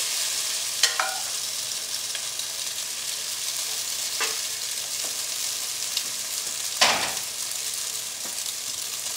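Shrimp fry in a skillet with a constant bright sizzle, broken by a few soft utensil taps and stirring scrapes, one louder scrape near the end.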